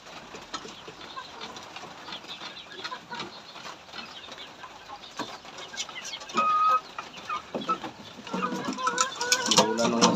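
Chickens cluck and chatter nearby while someone talks over them, with scattered bird calls growing busier toward the end.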